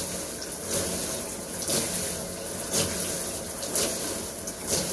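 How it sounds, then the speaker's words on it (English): A hot shower runs in a steady, broadband hiss of falling water, with faint periodic surges and splashes, close and continuous with no voices. "My shower nice and hot."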